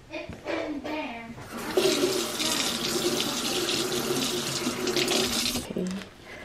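Bitter gourd (ampalaya) is washed under a running kitchen tap, a steady loud rush of water into the sink with splashing, beginning and ending with brief voices nearby.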